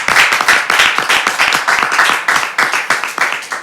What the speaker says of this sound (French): Je veux qu'on l'applaudisse quand même assez fort pour son courage